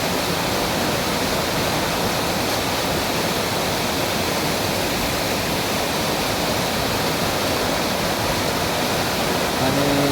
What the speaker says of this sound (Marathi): धबधब्याचा पाणी आहे